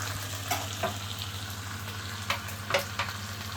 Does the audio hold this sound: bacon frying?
yes